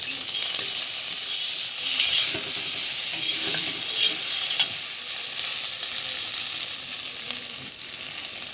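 Food frying in a pan with turmeric and salt, stirred for a baby meal: a loud, steady sizzling hiss with soft scraping stirs running through it and no voices.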